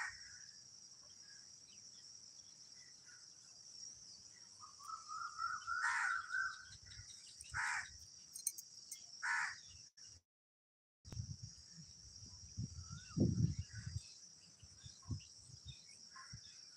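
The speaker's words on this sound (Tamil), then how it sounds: "அதனால் இங்கே எல்லா குருவி சத்தமுமே கேட்கும் உங்களுக்கு" Birds calling around a village in the morning, with a steady high insect-like buzz underneath and a few louder chirps and calls rising out of it, some at moderate distance.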